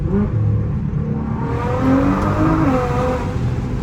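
A Nissan GT-R engine revs and accelerates, its whining pitch climbing steadily, heard from inside or close by with no voices.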